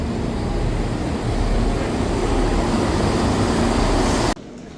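A steady, full-bodied rumble and hiss of riding inside a train carriage in Britain runs continuously and fairly loud, with no voices, until it drops sharply to a quieter hum just before the end.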